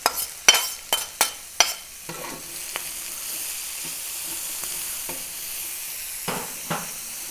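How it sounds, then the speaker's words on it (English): Sliced capsicum drops into a pan of sizzling chorizo with several sharp thuds and crackles at the start, then a steady frying sizzle with occasional spits and scrapes. "And so now we're going to add in the capsicum that's just been sliced."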